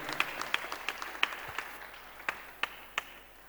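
A church congregation claps in a loose scattered rhythm, a dozen or so sharp distinct claps over a soft room murmur, fairly faint and fading toward the end.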